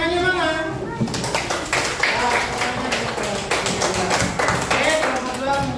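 A classroom of pupils claps their hands together, a fast scattered patter of many hands that runs on for several seconds, with voices mixed in near the start.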